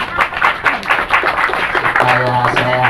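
Audience at an Islamic Maulid sermon clapping hands in a dense, steady patter, with a preacher's voice talking over it and a sustained tone entering near the end.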